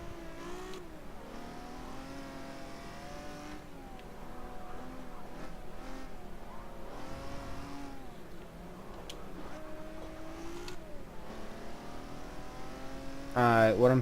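Old Ferrari race car engine in Forza Motorsport 7 revving and shifting through gears, a steady mid-level rasp that rises and falls repeatedly, with someone talking over it throughout.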